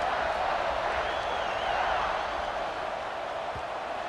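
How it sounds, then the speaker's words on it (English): A college football stadium crowd, Florida State at Ohio State, buzzes after a score: a dense, steady roar of many voices that stays loud and even throughout, with no single voice standing out. "this crowd is buzzing after that last score"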